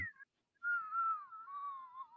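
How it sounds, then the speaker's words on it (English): A slide whistle lets its air out in a steady, fairly loud tone that slides gradually downward, after a short higher squeak and a brief gap. "just let all the air out of Kevin's slide whistle"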